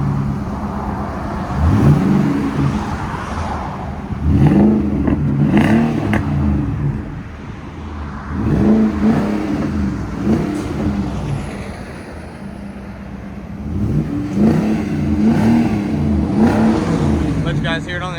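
A 2019 Nissan Armada with a 5.6L V8, custom H-pipe, Magnaflow oval body mufflers and stainless steel quad tips is revved repeatedly. Several rising and falling surges sound close and loud, with quieter idle between them.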